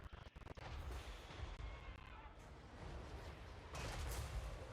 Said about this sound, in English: Cannons on the high ground, still shooting though.